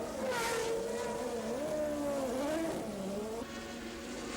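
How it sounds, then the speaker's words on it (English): A lightweight 1982 Toleman Formula 1 race car spins off the track, its engine screaming loud and steady with sweeping pitch changes as it slides, then settling to a lower, rougher note near the end. "The new lightweight Tolman was only 11 tons instead of 12 and spun off as a consequence."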